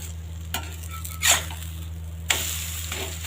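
Adai dosa sizzles softly on a hot pan just after flipping, with a couple of brief spatula scrapes over a low steady hum.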